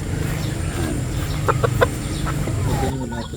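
Lacey Gilmore breeder chickens clucking in a coop, a few short close clucks over a steady low background hum.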